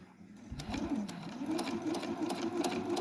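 A Husqvarna Viking Victoria sewing machine stitches continuously at close range, its motor whirring with a quick, even needle rhythm and no voices present.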